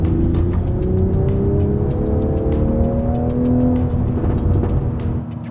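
A 2020 Toyota Supra's engine revs hard and holds high, a loud steady mechanical roar with rising and falling pitch and faint exhaust crackle, with no voices over it.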